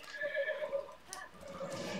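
A horse whinnies and neighs in the video game Zelda Breath of the Wild, a loud, clear call lasting about two seconds with faint hoof clatter, and no speech.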